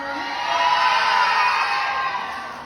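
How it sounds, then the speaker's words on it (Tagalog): A crowd at a Miss Gay pageant cheers and shouts together in a sustained roar that swells and then slowly fades. "Wala po bang hiyawan dyan?"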